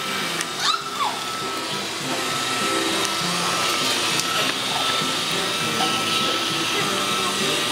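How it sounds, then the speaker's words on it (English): Roomba robot vacuum cleaner running indoors, a steady whirring motor hum with brushing noise and a few faint bumps and a brief high squeak near the start. "having a fun time with the Roomba"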